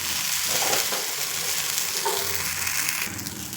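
A soaked moong dal dhirde pancake spread thin on a pan with a little oil, hissing and sizzling steadily up close, with a faint scrape near the end.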